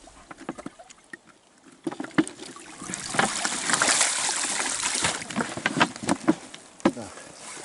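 Water tossed out onto thin first ice of the season near a shore, giving a broad splashing burst that spreads and lingers for a few seconds among scattered knocks and rustles, fairly close.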